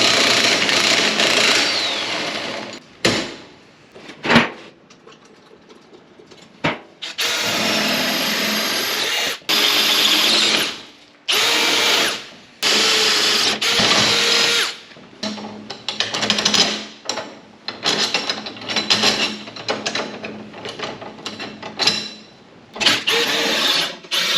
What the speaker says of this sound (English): These brackets I'm just drilling here are for the restraint that catches the sheep's head.